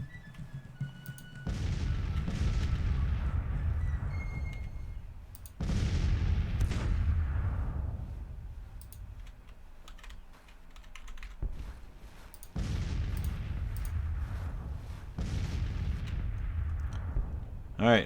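Artillery guns fire in the Civil War strategy game Grand Tactician, several heavy booms with long rumbling tails spaced seconds apart, and a voice talks between them.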